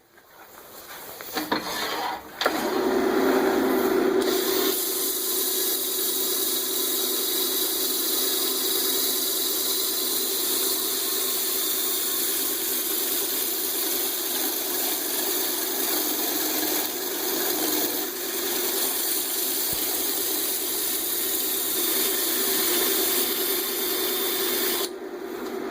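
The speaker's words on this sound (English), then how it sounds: "Go ahead and get it sanded up now." A spalted maple square dish spins on a wood lathe while being sanded, making a steady mechanical hum and whir that carries on continuously for over twenty seconds, with a brief start-up clatter at the beginning.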